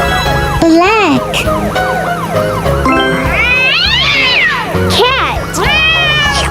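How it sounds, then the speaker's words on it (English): A cartoonish cat meows repeatedly amid playful music and siren-like electronic tones in a children's colors-and-animals toy setting, loud and close, with a voice speaking briefly. "Cat."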